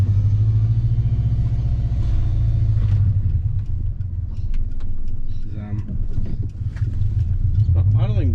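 Subaru Forester SG with a custom exhaust idling roughly, a deep, loud, uneven rumble that carries throughout, while people talk over it.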